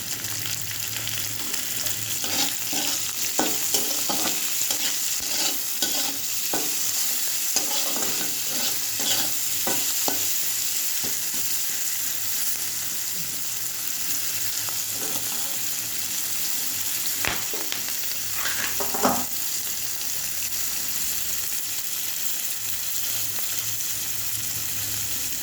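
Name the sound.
onions frying and being stirred in a pan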